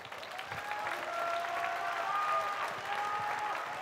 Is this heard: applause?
yes